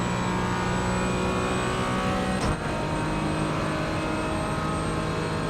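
A Porsche race car engine roaring at sustained high revs on a racing circuit, a dense continuous loud drone with a brief spike midway, heard close from on board.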